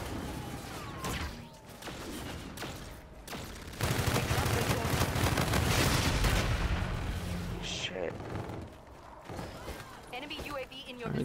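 Gunfire in Call of Duty: Infinite Warfare, with scattered shots followed by a dense sustained burst of firing and booms in the middle, then thinner shots under game music and a voice speaking.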